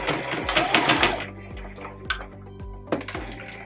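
A sewing machine stitches a fabric strap for a small pouch, its needle thumping in a quick steady rhythm with whirring motor hum, pausing and starting again between short runs.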